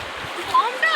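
Strong sea waves wash and splash onto the shore at Digha beach in a brief, noisy surge of water, with people talking over it nearby.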